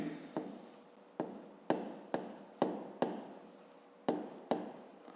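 A pen writing on paper during a fifth-grade maths exercise, a series of about ten quick scratching strokes, each starting sharply and fading, close and clear with no talk.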